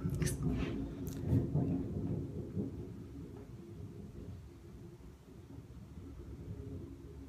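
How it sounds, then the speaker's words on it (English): Low, continuous thunder rumbles through a heavy storm outside, with some lighter crackles early on, moderately loud and steady throughout. "sorry, it's thundering, lightning, it's storming like crazy outside"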